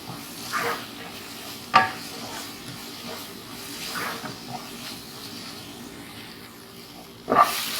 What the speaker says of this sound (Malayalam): ഒരു 2 മിനിറ്റോളം നമുക്കിതൊന്ന് വഴറ്റിയെടുക്കാം.